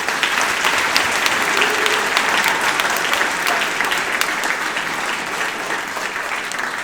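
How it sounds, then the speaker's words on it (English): Steady applause from a middle school band concert audience fills the room, dense and continuous clapping that holds at an even level throughout before easing slightly near the end. "Will you give them a round of applause, please?"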